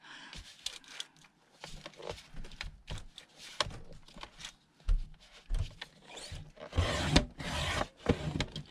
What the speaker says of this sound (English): I gotta trim this side off.